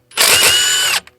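A ratchet works a 13mm alternator bolt on a 6.0 Powerstroke diesel, giving one close, loud burst of rapid clicking that lasts just under a second, then a tiny click after it.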